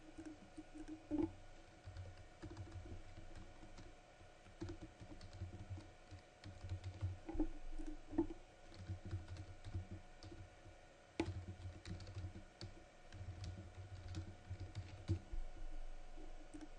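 Quiet computer keyboard typing comes in short clusters of soft clicks separated by pauses, faint and close, with no talk.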